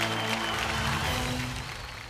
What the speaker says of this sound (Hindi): दीपशिखा के लिए जोरदार तालियां।